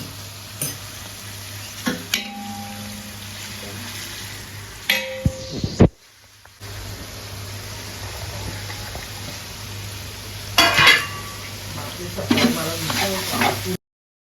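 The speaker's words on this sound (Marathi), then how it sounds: "छान परतून घ्यायची तेलामध्ये" Green chillies and spices frying in oil for masala rice, a low continuous sizzle with occasional clinks and scrapes of stirring in the pan, briefly cutting out midway.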